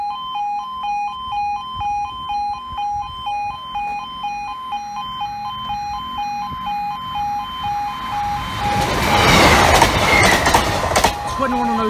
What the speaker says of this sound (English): This will be the dry train from Newark Northgate to Grimsby.